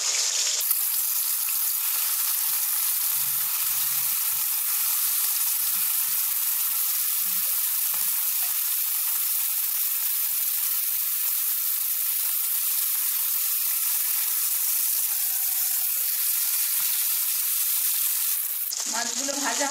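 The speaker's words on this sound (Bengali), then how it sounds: "মাছটা আমি ছেড়ে দিচ্ছি" Amudi fish frying in hot oil in a pan, giving a steady, loud, continuous sizzle and hiss that lasts throughout, with faint low clatter early on.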